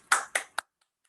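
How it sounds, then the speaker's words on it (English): A few hand claps, three quick sharp ones close together and then silence, from members of an online club meeting. "give yourself a clap"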